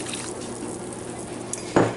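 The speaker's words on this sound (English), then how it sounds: "now we're adding the water" Water splashes briefly into a pot of vinegar for garlic dill refrigerator pickle brine, a short, close pour that begins near the end after quiet kitchen background.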